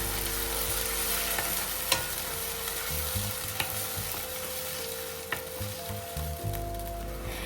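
Chicken gravy sizzling steadily in a pan after ground tomatoes are added, with occasional stirring clinks over the continuous fry and no voices.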